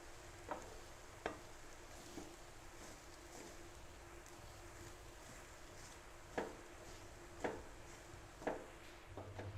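Chicken being stirred with masala in a pan, a steady low sizzle under scattered clinks and scrapes of the spoon against the pan, fairly quiet and close.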